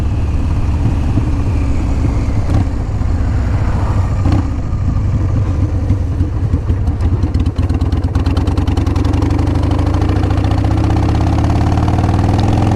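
A 2000 Harley-Davidson Sportster 1200 rumbles loudly and steadily while being ridden, a deep, continuous engine drone with wind noise and a slight shift in pitch as the bike changes speed.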